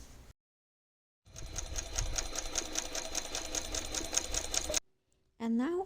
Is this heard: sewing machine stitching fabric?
yes